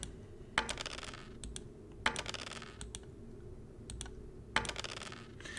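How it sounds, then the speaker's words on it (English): Mouse right-clicks during the Battle of Zama strategy video game: three sharp, fairly close clicks spaced a second or two apart, with fainter ticks between them over a low background hum. No one speaks. "we'll right click on the mouse to go to the next phase"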